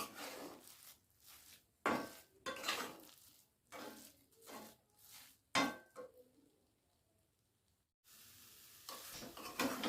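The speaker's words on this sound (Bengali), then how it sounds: "এলাচ গুঁড়ো ভালো করে আমি মিশিয়ে নিচ্ছি" Cardamom powder being stirred into a carrot sweet mixture in a pan, several rhythmic scraping strokes with soft sizzle, close and fairly quiet, separated by brief pauses.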